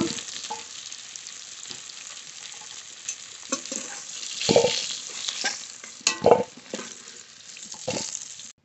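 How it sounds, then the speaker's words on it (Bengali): Potatoes frying in mustard oil, a continuous sizzle with spoon stirring and a few louder scraping clatters, no talking. "আলু খুব ভালো করে ভেজে নিয়েছি"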